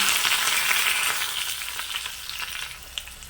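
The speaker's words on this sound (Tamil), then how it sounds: "நான் தேங்காய் எண்ணெய் தான் ஊற்றுறேன் கடுகு வெந்தயம் போடுறேன் சின்ன வெங்காயம் நம்ம போட்டுக்கிறேன் கருவேப்பிலை போட்டுக்கலாம்" Mustard seeds, fenugreek, small shallots and curry leaves fry in hot coconut oil for a tempering, giving a steady, close crackling sizzle with scattered pops and no talk.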